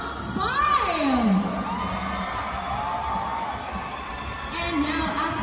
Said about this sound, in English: Macias, let me hear you scream first for all of our top five